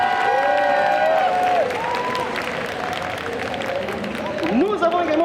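Audience applause and cheering at a solo cosplay contest at the Made in Asia 2023 convention, sustained and loud throughout, with an amplified voice speaking over the crowd.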